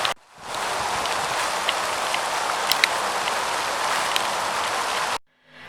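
Steady rain falling outdoors, a dense continuous hiss with occasional louder drops close by, then cutting off abruptly near the end; no voices.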